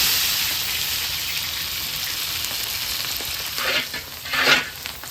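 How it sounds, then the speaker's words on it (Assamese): Onions fry in hot oil in a pan, giving a steady, loud sizzle with a few brief stirring bursts toward the end and no talk. "পিঁয়াজটো পুৰা ভালদৰে ভাজা হৈ গ'ল।"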